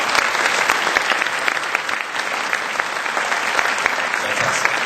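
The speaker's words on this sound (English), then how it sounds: "a round of applause for Sir Martin Sorrell" Audience applause at a business talk, a full, sustained burst of clapping from a large hall crowd, loud and steady with a few sharper individual claps standing out.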